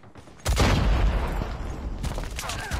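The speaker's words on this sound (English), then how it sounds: "Oh, that's a grenade!" A grenade explodes in a first-person shooter, a sudden loud boom followed by rumbling gunfire and crackling debris at close range.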